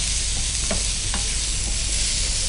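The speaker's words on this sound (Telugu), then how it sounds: "యా, సో బాగా ఫ్రై చేసుకోవాలన్నమాట." Andhra-style fish fry sizzles steadily in a pan with coriander powder and garam masala, a dense crackling hiss broken by a few soft stirring scrapes, no voices.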